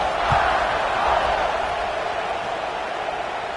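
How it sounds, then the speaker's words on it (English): A packed stadium crowd in the NCAA 25 college football video game keeps up a constant, dense buzz of cheering and murmur for a few seconds after a score, loud and even throughout. "this crowd is buzzing after that last score"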